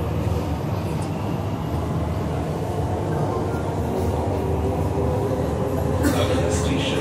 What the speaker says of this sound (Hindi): ये मेट्रो का अंदर का नज़ारा आप देख सकते हैं कैसा है, खूबसूरत मेट्रो है।